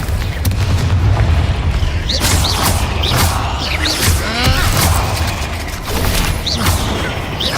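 Booming fire-blast spell impacts from a wizarding action video game hit one after another over a rumbling, mechanical bed of combat effects, loud and close, with brief whooshing streaks between the blasts.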